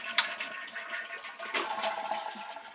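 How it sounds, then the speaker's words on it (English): A toilet tank drains in a rushing flush, part of a rainwater setup using a fountain pump; water gurgles and splashes close by, with a sharp clunk near the start and another surge partway through. "Water's going down"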